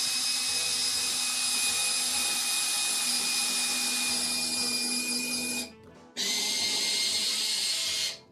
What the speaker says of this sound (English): I'm beginning to doubt whether or not I want to use the battery drill. These holes.